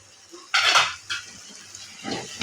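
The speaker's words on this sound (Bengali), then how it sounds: "এখন নেড়ে চেড়ে নামিয়ে ফেলবো।" Kolmi greens with coconut being stirred in a cooking pan, giving a few scraping, clattering strokes of a utensil against the metal in quick bursts, close and fairly quiet, with no talking.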